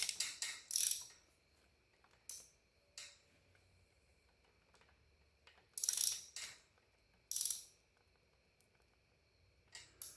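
Hydraulic valves being adjusted on a demo engine, with close, brief bursts of ratcheting clicks separated by quiet pauses, about eight short spurts in all.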